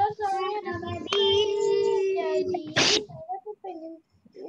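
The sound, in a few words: child sneezing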